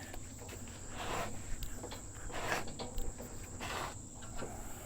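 A continuous high-pitched bee buzz drones throughout, with some rustling and shuffling movement nearby, in a workshop around a car's steering.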